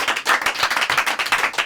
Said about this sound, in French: Je vais l'applaudir bien fort.